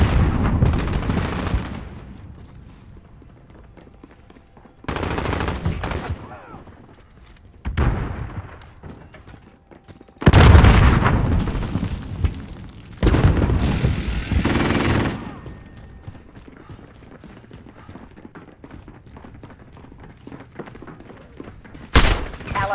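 Bursts of sentry gun fire and explosions in Call of Duty Modern Warfare multiplayer come in several loud blasts separated by quieter gaps, ending with one last sharp crack.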